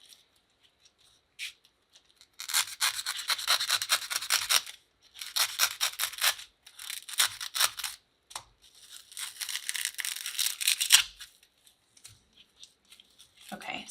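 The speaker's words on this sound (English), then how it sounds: "So just use your knife and cut a little opening and then pull the piece of foam out." A craft knife slices into a block of foam to cut an opening for a fake Twinkie, giving several bursts of close scratchy, rasping cuts separated by short pauses.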